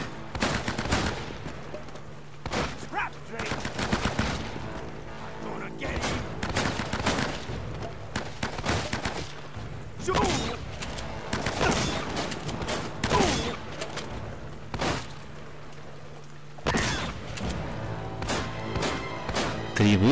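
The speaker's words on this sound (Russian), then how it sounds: "Три выстрела, потом еще один" Gunfire in Uncharted: Drake's Fortune: sharp single shots and quick bursts at irregular intervals over a steady low background hum.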